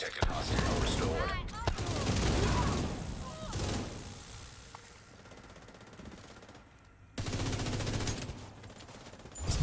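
Game gunfire in bursts, clattering rapid shots loud at the start, fading to quieter mechanical rattles mid-clip, then another loud burst of shooting near the end.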